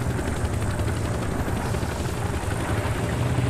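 A UH-60 Blackhawk helicopter in Squad, the close, steady thudding of rotor blades over a deep engine drone, loud and unbroken with no talk.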